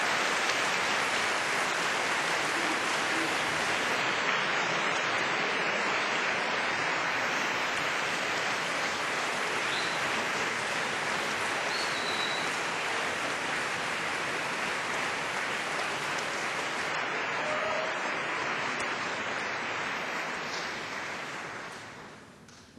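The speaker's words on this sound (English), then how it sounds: "give them all a very big round of applause and a wave" A large audience at a 2005 Cardiff University graduation ceremony claps in dense, steady applause that holds at an even, loud level for over twenty seconds before tapering off at the end.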